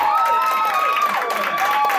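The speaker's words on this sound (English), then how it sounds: "let's give them a huge round of applause" Audience at an anime convention game show, a Who Wants to Be a Millionaire-style event, applauding loudly with steady clapping mixed with whoops and vocal cheering throughout.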